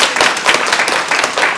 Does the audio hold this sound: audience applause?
yes